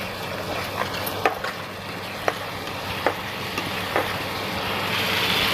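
Tomato paste being stirred into masala in a pan for Odia ghuguni, a soft ongoing sizzle with a few sharp spoon clicks and scrapes against the pan at uneven intervals, fairly close and moderate in level.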